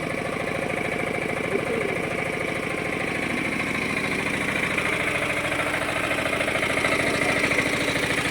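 A vehicle engine idles steadily and loudly close by, a continuous rough, low rumble that holds level throughout with no talking.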